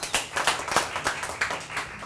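An improv-night audience claps for the group of tellers, a short burst of scattered hand claps of moderate loudness, near and uneven, with no talking over it.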